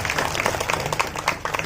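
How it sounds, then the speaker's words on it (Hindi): An audience at a church celebration for religious sisters claps steadily in welcome, a dense patter of many hands heard a little distant, without speech. "हम सभी धर्म बहनों का जोर से ताली बजाकर स्वागत करेंगे।"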